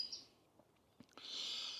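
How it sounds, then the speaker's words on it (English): Birds chirp faintly in open, snowy countryside along a walk from Wrington to Langford, with short high calls at the start and a longer burst at the end over quiet surroundings. "Got the birds singing, open countryside."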